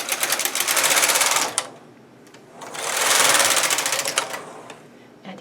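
Domestic knitting machine carriage swept across twice on tuck setting for brioche stitch, two long rasping whirring passes with clicks between, close and loud.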